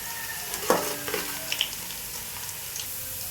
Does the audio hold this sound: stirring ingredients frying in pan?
yes